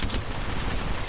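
A weapon fires in the video game Apex Legends Mobile, a dense, steady stream of rapid automatic shots lasting about a second, loud and close.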